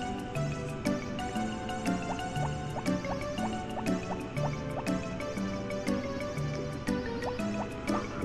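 Water filling with repeated bubbly drips and gurgles in the Harvest Moon video game, in a quick steady rhythm over light background music.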